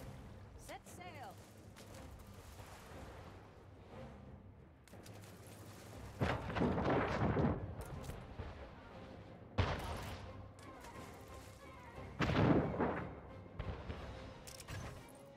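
Cannon fire booms in bursts during a naval bombardment in the Anno 1800 video game, with several loud clustered volleys of rumbling explosions rising over a steady background of game sounds.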